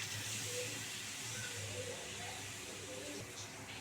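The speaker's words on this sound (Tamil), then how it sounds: "ஃபர்ஸ்ட் சோம்பு போட்டுக்கலாம்." Fennel seeds sizzle in hot oil at the start of a poori kadappa, giving a steady, close, even hiss that holds for a few seconds with no talking.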